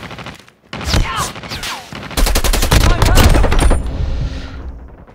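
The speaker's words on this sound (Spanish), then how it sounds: "si necesitaba disparar de cadera, hacía esto" Hip-fire gunfire in COD Mobile on a phone: rapid close bursts of shots, a short volley, a pause, then a longer sustained stream of loud rattling fire that fades out.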